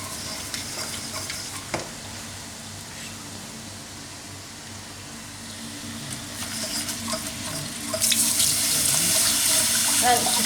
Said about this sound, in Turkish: Bunu da sütünü vereceğim şimdi.